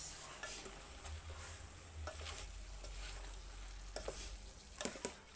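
A spoon stirs chicken stew in a pot, making a quiet bubbling simmer with occasional soft scrapes and clinks near at hand; no talking.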